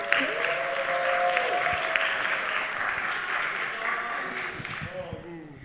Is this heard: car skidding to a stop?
no